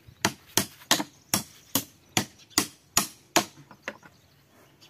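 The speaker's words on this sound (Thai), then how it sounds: "ก็ใช้ไขควงตอกแล้วมันก็จะหลุดออกครับ" A screwdriver is hammered to knock a metal core out of a plastic part set on a steel piece with a hole, giving about ten sharp metallic strikes in a steady rhythm, close and loud, with no talk.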